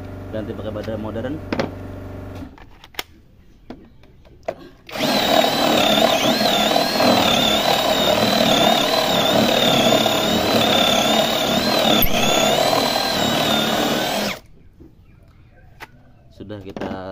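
An APR AP12+ cordless battery drill whirs loudly and steadily for about ten seconds, starting abruptly and stopping sharply, with quieter speech and handling noise before and after the run.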